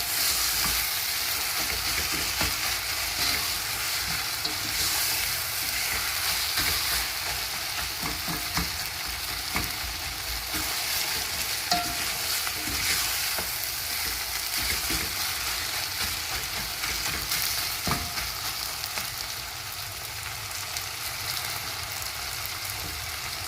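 Black beans (njahi) frying in a pan with cooked tomatoes, a steady, dense sizzle with crackling pops that runs unbroken throughout, close and fairly loud.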